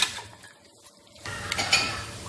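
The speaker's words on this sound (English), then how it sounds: "So we just continue stirring and then let it keep frying a little longer." Utensils scrape and clink against a pot while stirring meat, then a loud sizzling hiss of frying meat rises and continues.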